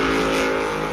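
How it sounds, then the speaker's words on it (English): Monster trucks drift around a mud arena at a Monster Jam event in Foxborough, a loud continuous engine roar with steady revving and no pauses. "We've got drifting monster trucks."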